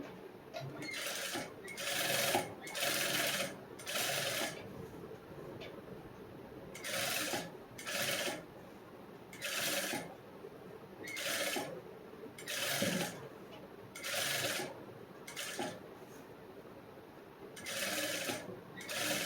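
Sewing machine stitching the lining of a blouse, running in repeated short bursts of rapid stitching separated by brief pauses, fairly close and moderately quiet, with no talking.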